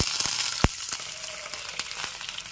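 Ginger paste hits tempered spices in a pan for a pea dal with banana stem, making a close, continuous sizzle with sharp spatula clicks and taps scattered through it.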